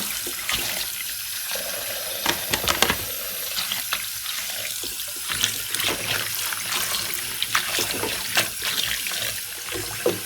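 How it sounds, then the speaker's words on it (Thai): Fresh herb leaves being rinsed under a running kitchen tap, a steady broadband rush of water broken by irregular splashes and soft handling of the wet leaves, close and continuous with no talking. "ก็จะล้างจนกว่ามันจะสะอาดนะคะจนแบบไม่มีเศษผงอะไรมากมายนะคะ"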